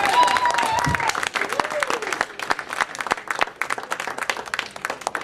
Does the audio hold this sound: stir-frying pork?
no